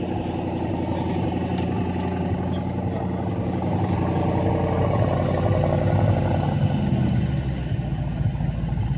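A warm car engine at a vintage vehicle gathering on an airfield in Sarre-Union runs steadily with a rhythmic low throb, rising slightly in the middle, loud and close, with no talking over it.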